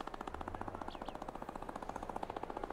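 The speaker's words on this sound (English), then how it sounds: "I can hear the rotor" A helicopter rotor chops rapidly and evenly at mid distance, a steady fast pulsing thud that continues with no voices.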